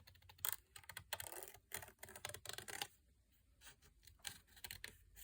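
Paper being fussy cut with scissors while decorating a gift box for a mini Yankee candle: faint, quick clicky snips in irregular bursts, quiet and close, with no talking.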